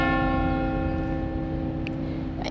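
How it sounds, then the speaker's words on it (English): Church bells ring at St Pancras in London, a loud, sustained tolling with a rich, steady tone that fills the whole stretch, with faint outdoor noise near the end. "oh, I can hear the bells, so it is time to start."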